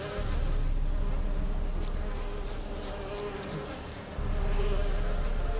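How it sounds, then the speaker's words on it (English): Steady, dense insect buzzing from a swarm of bees in The Witcher 3: Wild Hunt fills the scene continuously, droning loudly and evenly with a slight swell near the end, with no speech over it. "What is this? Is that bees?"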